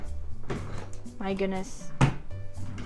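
Bedroom drawers are pulled open with soft wooden knocks and a brief scraping slide, heard close by under quiet talking during a room tour.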